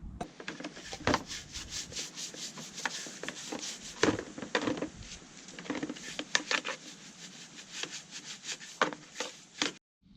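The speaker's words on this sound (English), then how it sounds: "sand this down, get it all nice and tidy, and get it ready for some black paint" A BMW K100 motorcycle part is sanded by hand being prepped for paint, giving irregular bursts of scratchy rubbing strokes close by, fairly quiet, ending with a short pause.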